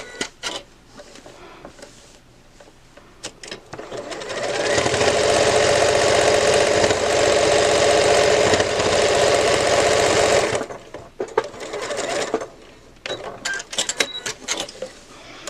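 A sewing machine runs steadily for about six seconds, quilting dot to dot across a patchwork bow with Cuddle fabric, with quieter handling sounds before and after.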